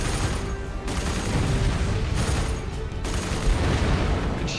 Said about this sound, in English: Target's cleared hot. Missiles away.